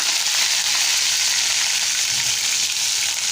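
Mustard seeds and curry leaves sizzle and crackle in hot oil in a pan for a tomato vegetable dish, a dense, steady frying hiss with no talk.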